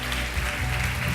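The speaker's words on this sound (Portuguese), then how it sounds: "Dê um forte aplauso a Cristo" A congregation at a church service breaks into strong, sustained applause, a dense steady clapping that fills the whole moment without letup.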